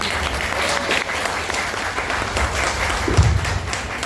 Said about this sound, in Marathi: ते हृदयातून टाळ्या येतात